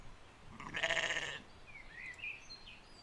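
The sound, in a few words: sheep bleating in animated story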